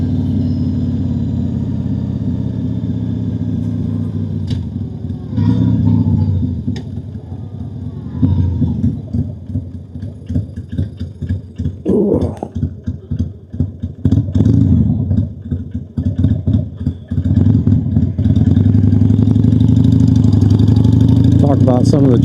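Harley-Davidson Sportster 883 motorcycle ridden around Kingsport in the evening, its steady engine drone running throughout with rising revs and gear changes in the middle stretch, loud and close, with someone talking over it at times.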